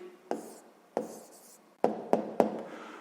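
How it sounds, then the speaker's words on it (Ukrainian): Pen or chalk tapping and scratching on a surface as an answer is written down, five distinct taps spaced irregularly, close and fairly quiet, with no one talking. "Записуємо тоді відповідь."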